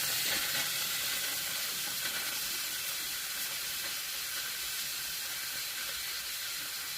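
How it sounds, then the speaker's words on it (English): Steam vents from the steamer of an old stovetop cappuccino and espresso maker in a sustained, even hiss with a faint sizzling edge, close and moderately loud, with no voices. "Get a little steam out."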